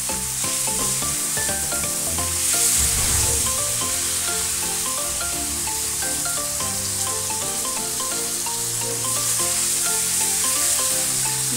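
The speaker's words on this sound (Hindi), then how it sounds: "दो मिनट तक मैंने मसाले से लपेट कर भून लिया है" Fried jackfruit being stir-fried with cooked spices in a pan, a continuous bright sizzle with steady stirring and scraping throughout, close and fairly loud, with no voices.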